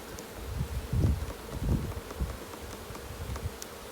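A steady hum of many honey bees from a newly installed package buzzing close by, with soft rustling and a few louder swells as bees pass near.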